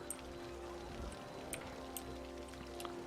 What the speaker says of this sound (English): Oh, the rain falling down through the lights on the streets.